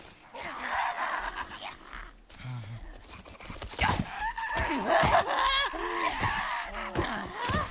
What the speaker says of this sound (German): ich hör's ja schon schreien.